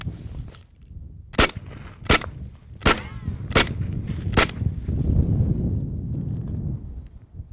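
A Beretta 92 FS pistol is fired outdoors: five sharp, loud shots spaced roughly evenly apart, each with a brief echo. Low rumbling wind noise runs underneath.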